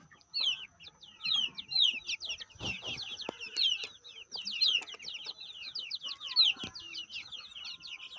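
Native country chickens, including a Fayoumi, clucking and chirping in a coop at dusk, a busy string of repeated short calls from several birds nearby, moderately loud with no talking.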